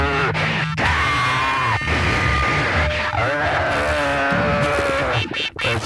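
A voice imitates a King Kong roar with loud, bleating, wavering yells over a thick, distorted guitar and drum backing, close and continuous.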